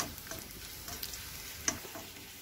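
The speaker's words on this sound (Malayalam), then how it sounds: "ഈ കടു പൊട്ടിക്കുന്നതിനകത്ത് ഇടണം" Dried chili dropped into hot oil with popping mustard seeds for a sadya-style pulissery tempering, giving a quiet, steady sizzle and crackle with scattered sharp pops and no voices.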